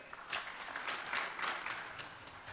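An audience at a county government nuclear power conference gives brief, faint applause, a soft wash of scattered clapping heard from a distance for a couple of seconds.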